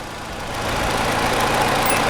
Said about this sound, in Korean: 엔진 떨림 없죠? 조용합니다.